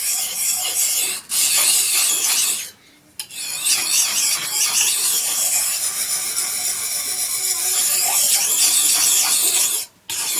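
A really dull knife blade strokes repeatedly across a sharpening stone, giving a loud, continuous gritty rasp close by, broken by two or three short pauses between passes.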